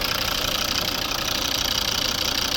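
A 2011 Volvo V50 2.0 D4 diesel engine idles steadily with a rapid, knocking clatter, loud and close, with no voices.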